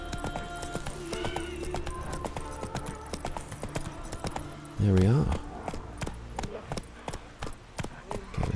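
Horse hooves clip-clop steadily in The Witcher 3, a run of close, regular hoofbeats with a brief whinny-like burst midway, while someone talks briefly over them.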